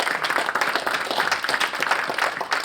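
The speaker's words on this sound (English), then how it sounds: "let's go ahead and clap it up for Teresa" An audience at a talk about life after foster care applauds, many hands clapping in a lively, moderately loud patter that holds steady for a few seconds.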